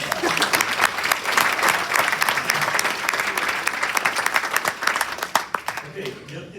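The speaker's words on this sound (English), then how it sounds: "Let's clap for her." Audience at a resident council meeting applauding steadily, a dense wash of many hands clapping from start to finish, loud and fairly near, thinning slightly toward the end.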